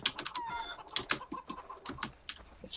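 A chicken in the video game Far Cry 3 clucks in a string of short, sharp, fairly quiet bursts with uneven spacing.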